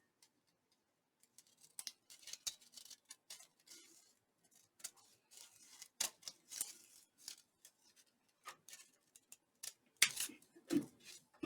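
Scissors cutting fabric while a pocket is sewn: a sparse run of faint, sharp snips and clicks separated by quiet gaps, close by.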